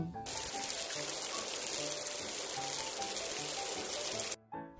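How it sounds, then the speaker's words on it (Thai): Rain falls in a dense, steady patter and hiss that fills nearly five seconds before stopping abruptly, with a faint tonal hum beneath it. "ใช่แล้วค่ะ เสียงฝนตกนั่นเอง"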